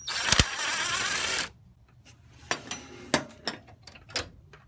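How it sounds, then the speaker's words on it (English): A wrench working the 9/16 bolts holding a 1941 Dodge WC12 brake master cylinder to the firewall, with a sustained ratcheting burst followed by sparse metallic clicks and taps, close and fairly quiet. "now I'm going to remove the 9/16 bolts that bolt the master to the firewall"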